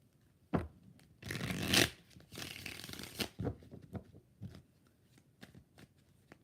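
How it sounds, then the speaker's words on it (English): A deck of tarot cards is shuffled up close in several bursts of riffling and snapping, with quieter card taps and handling in between, and no talking. "3 shuffles."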